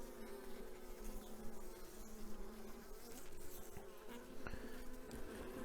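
Carniolan honey bees buzzing steadily around an opened nucleus hive in September, a continuous close drone of many wings with no speech.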